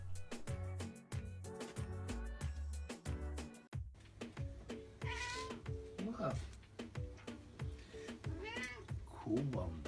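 Cats meow repeatedly in short, high cries over a steady rhythmic music backing that runs throughout, with the meows rising above it at intervals.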